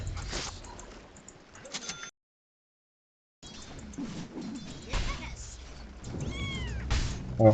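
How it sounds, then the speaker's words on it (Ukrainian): A cat meows in the video game Dota 2, with a short rising-and-falling call near the end amid busy in-game sounds, game noises and a brief silent gap. "Котик."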